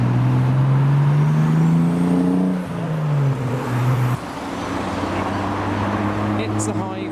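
Toyota Supra rolling into a Japanese tuner car meet in Reading, its engine humming with a rising then falling tone before easing off, amid surrounding traffic and people talking.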